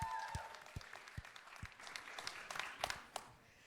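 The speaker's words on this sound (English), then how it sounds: "But first, a round of applause" An audience claps for an author panel at a Las Vegas writers' conference, starting with a few scattered, distinct claps that thicken into a fuller round of applause before fading.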